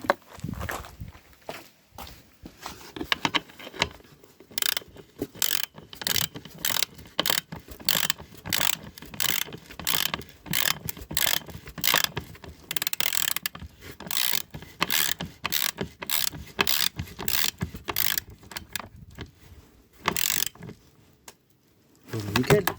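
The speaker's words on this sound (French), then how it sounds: "Je vais prendre la clé." Wrench ratcheting in quick repeated bursts while a Citroën Jumpy van bumper is removed, clicking rhythmically with short pauses between runs, close by, with occasional footsteps.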